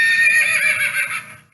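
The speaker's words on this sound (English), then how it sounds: "that's what a real horse sounds like" A real horse gives one loud, close neigh, a high, wavering whinny that fades out at the end, heard alone.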